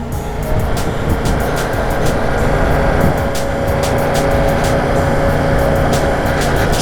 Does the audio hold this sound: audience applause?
no